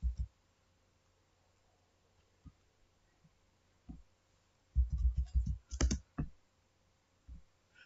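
Several bursts of keyboard clicks, typing in short irregular clusters on a computer keyboard while entering details in Microsoft Word, with quiet gaps in between; close and fairly soft.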